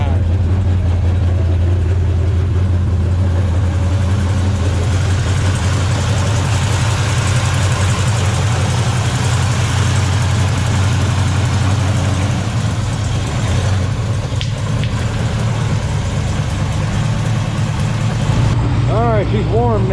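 A 1968-1969 Dodge Charger V8 idles as it warms up, a deep, steady rumble with a loping low pulse running close and loud throughout, with no voices over it.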